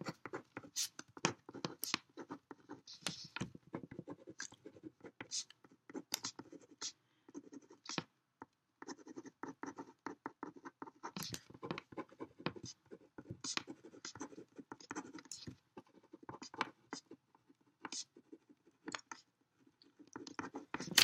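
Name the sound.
writing on a sticky note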